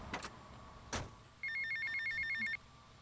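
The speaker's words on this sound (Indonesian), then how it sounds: "Ada telepon." A telephone rings in GTA Vice City, a single electronic ringing burst of about a second with a steady trilling pulse, preceded by a couple of short thumps and clicks from the game.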